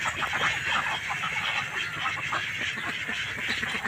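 A group of ducks kept at a rural home quacks continuously in a dense, overlapping chorus, loud and close with no pauses.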